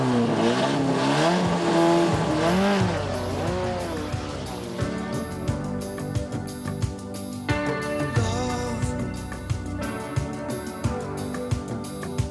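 Peugeot 104 ZS rally car launching at the start of a Forez rally stage, its engine revving hard through rising gear sweeps with tire noise, loud and close, then shifting and pulling away as the revs climb repeatedly.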